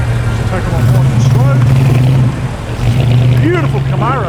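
A Chevrolet Camaro SS pulls away from a Penrith Homemaker car show with a deep, steady engine rumble and light revving up close, while people talk nearby.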